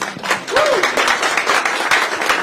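Audience applause at a community event, a steady wash of many hands clapping at close range, with brief voices mixed into the crowd noise throughout.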